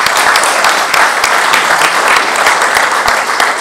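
Loud, dense audience applause fills a hall, many hands clapping at once in a steady roar with a few sharper individual claps standing out, sustained throughout without pause.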